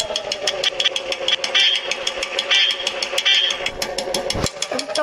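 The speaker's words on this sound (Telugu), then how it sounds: "వెరీ నైస్ కదా బుల్లెట్ సౌండ్." A Royal Enfield Bullet motorcycle engine in a mobile driving game idles with a steady rhythmic thumping beat and sharp repeated clicks, close and fairly loud.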